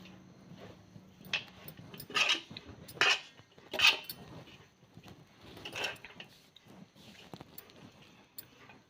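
Roasted potato chutney is stirred in a pot with a metal spoon, giving faint scraping and a few sharper clinks against the pot's side, quiet and intermittent, with no talking.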